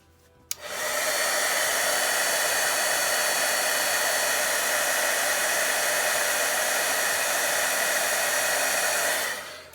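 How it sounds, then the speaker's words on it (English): A heat embossing tool blows a steady, loud stream of hot air onto cardstock with embossing powder, starting abruptly after a brief moment of quiet and running continuously without a break. "the heat tool is going to emboss it right into your cardstock"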